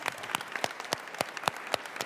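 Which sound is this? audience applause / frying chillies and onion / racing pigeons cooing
audience applause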